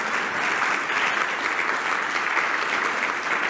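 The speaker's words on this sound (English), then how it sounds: "How about a round of applause just for everything that they've done?" Applause from an audience at a hotel staff event, steady and dense throughout, a full room clapping at moderate loudness with no break.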